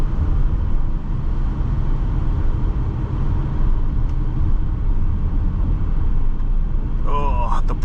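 Porsche Cayenne GTS Coupe accelerating on the road, heard from inside as a steady low engine and road rumble with no distinct rise, talking over it.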